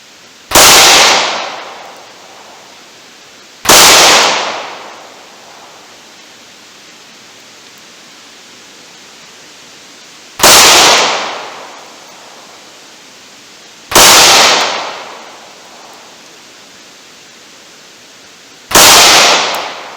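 Five sharp, loud cracks of .38 snub-nose revolver rounds fired at a target from close range, each a sudden broadband burst with a short decaying tail, spaced irregularly a few seconds apart outdoors.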